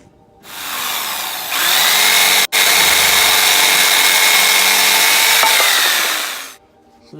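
A power saw cuts a piece of wood while building a table for a Volkswagen Transporter T5 van: a loud, steady, high-pitched whine that pauses for an instant mid-cut, then runs on for several seconds before spinning down.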